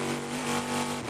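Aluminum block, titanium valve V8 race car engine pushed to full power, a brief, loud, sustained roar with steady pitch, heard up close with no voices.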